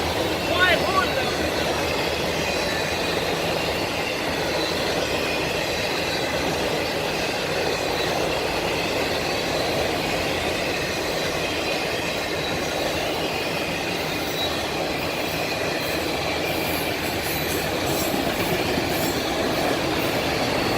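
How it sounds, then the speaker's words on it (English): A CSX freight train rolls past close by, a loud continuous rumble of wagons with clattering wheels and faint squeals, sustained throughout. "Another freight train."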